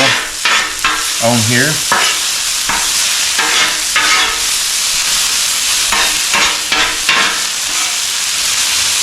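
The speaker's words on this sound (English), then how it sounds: "We're going to put down the peppers, and we're going to put down the onions." Chopped peppers and onions hit a lightly oiled Blackstone griddle at about 300 degrees, giving a loud, continuous sizzle broken by scraping spatula strokes, with a brief voice in the background.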